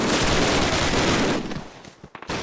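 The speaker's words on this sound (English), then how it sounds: "This MG guy is shredding us" Dense, continuous machine-gun fire from an enemy gunner in Call of Duty, loud and sustained for over a second, then breaking into scattered bursts and shots as the barrage thins.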